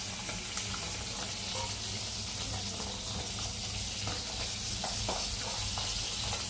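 About two kilos of spiced fish fry in hot oil with a steady, close hiss and crackle and occasional small pops, quiet and even throughout.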